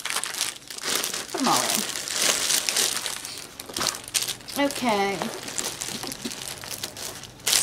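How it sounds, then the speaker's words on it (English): A plastic zipper bag crinkles and rustles up close as needlework kits are packed into it, with loud, continuous crumpling and brief crackles while someone talks. "I need another zipper bag here."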